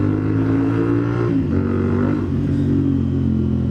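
A CFMoto 450 SR motorcycle cruising on an expressway, its engine a steady loud drone with wind rush and a slight dip in pitch midway, continuous throughout with no talk.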